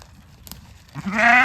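A goat browsing blackberry bushes in pasture lets out a single loud, close bleat after a quiet moment.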